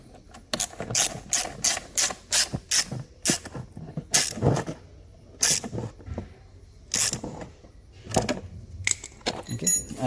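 Bolts on a Bajaj Dominar 400 tyre hugger are tightened with a tool, giving a busy run of metallic clicks, ratcheting and small clinks up close, with someone talking over part of it.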